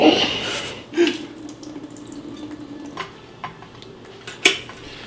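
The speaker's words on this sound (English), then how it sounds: "I'm gonna wash my rice" Rice is washed in water in a pot, with sloshing and swirling water under a few sharp knocks of grains and utensil against the pot.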